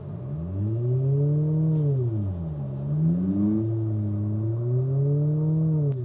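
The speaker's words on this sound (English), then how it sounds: "when we're in park, you can actually rev the engine and it will sound like a real engine." Artificial engine sound from an Abarth 500e electric hot hatch revved while in park: a synthetic motor tone swells up and down in smooth repeated rises, steady and close.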